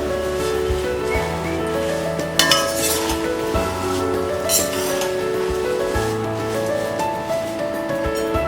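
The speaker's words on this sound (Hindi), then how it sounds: "दो मिनट तक कुरमुरा फ्राई करेंगे" Puffed rice (murmura) stirred on low flame in a pan for diet bhel, soft sizzle under a low hum, with light clinks and scrapes of a spoon against the pan.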